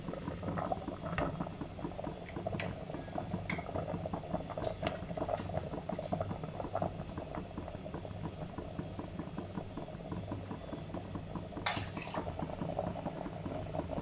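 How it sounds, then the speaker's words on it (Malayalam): Mango pulissery with ground coconut simmers at a steady rolling boil, its dense bubbling and popping continuing without pause throughout, close and even in level. "ഇതൊരു 5 മിനിറ്റ് നന്നായിട്ട് തിളക്കണം."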